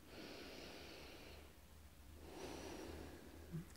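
Soft breathing from a group during a guided EFT relaxation exercise, two quiet drawn-out breaths separated by a brief pause, with a faint sniff near the end.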